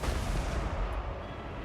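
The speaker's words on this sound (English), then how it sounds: "Oh, here comes the artillery, though." Artillery fire in the fantasy strategy video game Total War: Warhammer 3, a dense low rumbling barrage of blasts, loud and continuous without pause, with no voices over it.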